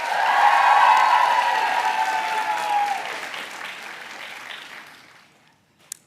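Commencement audience at a college ceremony applauding, a dense wash of clapping that starts strong, holds steady for several seconds, then thins and fades out near the end.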